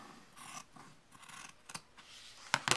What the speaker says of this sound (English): So then I'm going to cut again on the line.